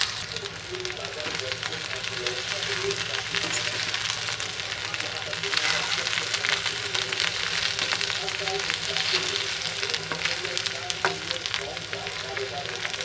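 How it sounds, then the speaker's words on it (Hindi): Sliced okra frying in hot oil in a pan makes a dense, continuous crackling sizzle, close and fairly loud, with stirring scrapes mixed in and a voice speaking over it. "इधर हमारा तेल गरम हो गया है। इसमें हम सबसे पहले भिंडी डालेंगे।"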